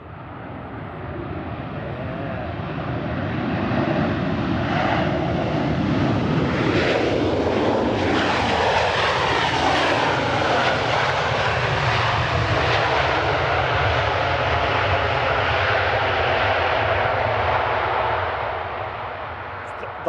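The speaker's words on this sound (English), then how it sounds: "Coming over the threshold here, we have Ryanair from Knock in Ireland. EIDYR, a 737-800" A 15-year-old Ryanair Boeing 737-800 passes over the threshold landing at Manchester Airport, its jet roar swelling to a loud, steady rumble and whine before slowly fading, with spotters talking nearby.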